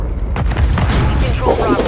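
A friendly cruise missile strike lands in Call of Duty Modern Warfare III, a loud, close, rumbling boom that fills the short moment amid game noise.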